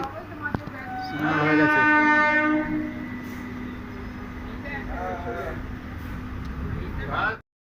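The Digha Express runs along the line with a rolling rumble as its horn sounds a loud, sustained blast early on, and fainter voices follow beneath the running noise.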